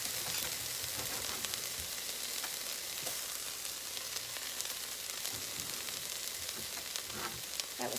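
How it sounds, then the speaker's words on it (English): Garlic, three cloves, goes into onions that have been sweating until tender in a pot for creamy potato soup, giving a steady, even sizzle and frying hiss throughout, fairly soft and close, with no talking. "After your onions sweat a little bit, get a little tender, I'm going to add my garlic."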